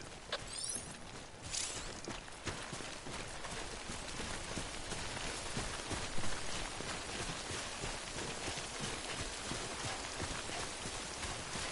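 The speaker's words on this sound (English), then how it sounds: "Don't stay out in the rain any longer than you have to." Timefall rain pours steadily in the video game Death Stranding, a dense, continuous hiss of falling drops that holds even and close throughout, with a few brief brighter patters near the start.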